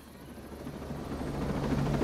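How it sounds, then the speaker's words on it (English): A helicopter in the video game Ghost Recon Breakpoint flies low overhead, its rotor drone and thumping chop growing steadily louder over a couple of seconds, with no voices. "Watch the helicopter, buddy. Damn, they're flying low as shit."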